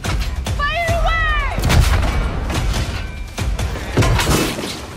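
Ship cannons firing in the pirate video game Skull and Bones, with several booming blasts and crashing impacts over a dense, loud battle din, with shouting voices mixed in.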